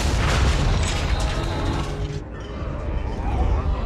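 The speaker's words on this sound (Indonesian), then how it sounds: "Beberapa menit mereka menunggu sebelum akhirnya jangkar itu pun meledak." An anchor rigged with a bomb explodes beside a large ship, a loud, sustained booming roar that fills the whole clip and fades slightly toward the end.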